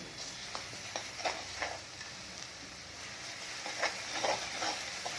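Green chilies frying in hot oil and stirred with a slotted spoon for a spicy coconut chili kharda: a steady sizzle with repeated scraping, clinking strokes at an uneven rhythm, close and fairly quiet.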